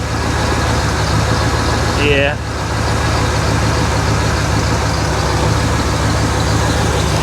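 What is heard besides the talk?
1981 Lincoln Continental Mark VI engine misfiring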